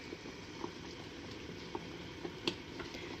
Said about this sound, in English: And I bring it to a rolling boil, which sounds fun.